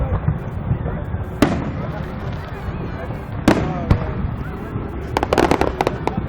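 Fourth of July fireworks in Austin, Texas, burst with sharp booms and crackling reports at a distance, a few big bangs then a rapid cluster of pops, while spectators talk and cheer nearby.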